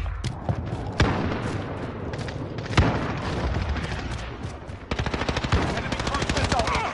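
Loud gunfire from the shooter game Modern Warfare, a sniper-rifle match: dense rapid automatic bursts and sharp single cracks, nearly nonstop and heavier near the end, with voices in the mix.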